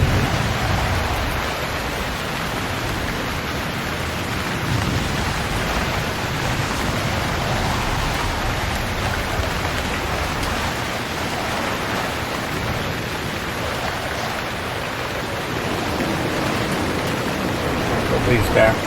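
Steady rain falling in unseasonable weather while out sailing, a dense continuous hiss with no breaks, fairly loud and even throughout.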